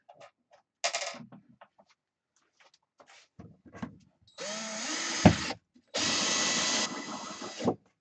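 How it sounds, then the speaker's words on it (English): A power tool fastens a wood lathe to a workbench in a small shed, sounding in a short whir, then a longer burst, then a final sustained run, with scattered knocks and clatter between. "there's going to be just a bit of noise for a second here, folks. I'm just fixing my lathe to the bench."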